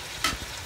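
Washed prawns tipped into a hot pan for prawn biryani, giving one brief, sharp burst of sizzle that quickly settles to a faint background hiss.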